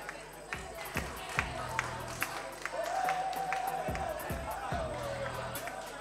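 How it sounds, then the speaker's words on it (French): A crowd at a rap battle contest claps and cheers, a scattered burst of applause and shouts from a room full of people, heard under a host's amplified voice speaking over it. "Merci de les applaudir bien fort."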